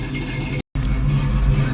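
A 1971 Ford Mustang Mach 1 with a new exhaust rumbling loudly and close, its engine held at a steady rev with a deep, throaty drone and a brief gap partway through.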